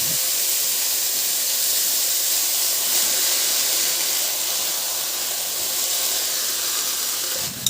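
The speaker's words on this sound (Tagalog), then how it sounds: "Ilagay ko na rin yung kamatis" Tomatoes hitting a hot pan of sautéed garlic and onion for a Filipino tilapia dish, producing a steady, loud, broad sizzling hiss that runs unbroken throughout, with a faint clatter near the end.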